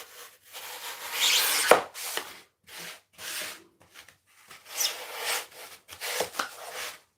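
Short rasping cuts and rubs come from trimming a model railway embankment, several separate close strokes with quiet gaps between them.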